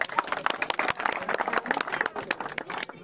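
Audience clapping at an outdoor award ceremony for a 1600 m run, a steady patter of many hands over about three seconds with voices mixed in.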